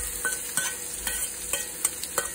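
Finely chopped onion added to a pan with browned garlic, sizzling and frying steadily while a spoon scrapes and stirs in regular strokes about every third of a second, close and alone.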